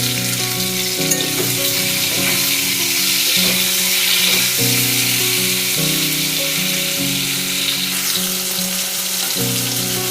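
Ridge gourd frying in a pan with salt and turmeric for Bengali jhinge posto gives a steady close sizzle for the whole stretch, with a sustained tonal hum running beneath it.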